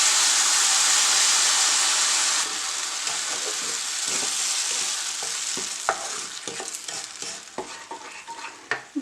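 Hot ghee sizzles loudly as sugar syrup is poured over fried bread for bread halwa, a steady bright hiss that eases after a couple of seconds into crackling pops and bubbling.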